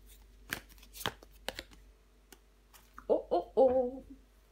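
Tarot cards are handled and laid down on a table, with several quick soft flicks and slaps of card stock up close, followed by a short voice-like vocal sound near the end.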